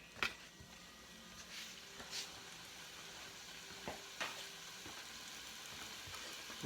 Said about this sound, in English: First thing we want to do with this jambalaya is we want to brown up our Andouille sausage.